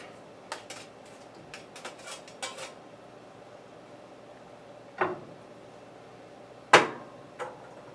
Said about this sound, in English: Pasta's always hard to get out of the strainer